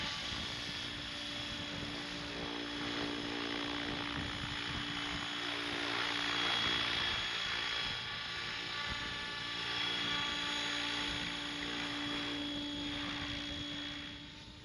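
RC helicopter hovering in place, its rotor and motor giving a steady whirring buzz with a constant high whine, held at an even level and moderately distant for the whole stretch, with no voices.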